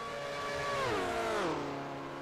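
A 1978 USAC race car at the Texas Grand Prix sweeps past on the track, its engine note rising and then dropping in pitch as it goes by, loud and steady without any voices.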